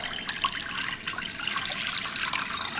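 Tap water pours into a cooking pot in a home kitchen, a steady hissing splash that runs continuously and fairly quietly with no talking over it.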